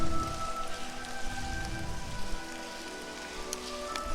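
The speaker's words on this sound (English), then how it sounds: "it was raining quite hard" Heavy rain pours steadily onto a surface outside an abandoned old cathedral in St. Louis, a dense continuous hiss with a faint tonal hum underneath.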